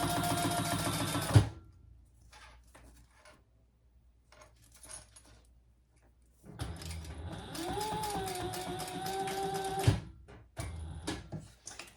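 A sewing machine top stitching a leather waist pack runs in two bursts, a short run at the start and a longer steady whir later, with small clicks and handling noises in the quiet gap between.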